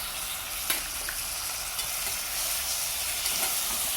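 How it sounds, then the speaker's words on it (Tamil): Masala with coriander and mint sautéing in a pan for mutton biryani, a constant bright sizzle with occasional soft stirring scrapes. "நல்லாவே வதக்கிக்கோங்க. அப்போ தான் நல்லா இருக்கும்."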